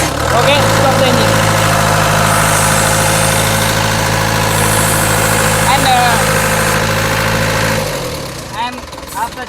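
The diesel engine of an MS 110 hydraulic excavator with a main relief valve fault idles loudly and steadily nearby with a deep hum, under speech, and winds down near the end as it is shut off.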